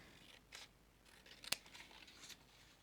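Scissors snip through paper while a frame is cut out, giving a few crisp, close cuts spaced about a second apart, with one sharp loud snap in the middle and quiet room tone between them.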